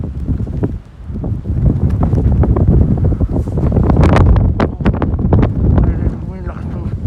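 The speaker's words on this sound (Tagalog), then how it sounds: "May lakas ng hangin." Strong blizzard wind during a snowfall blasts against the microphone in a loud, continuous roar that swells and gusts throughout.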